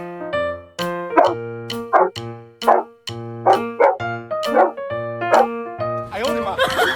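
A Belgian Malinois police dog barks close by in a series of sharp, loud woofs spaced roughly half a second apart, ending in a burst of noisier commotion.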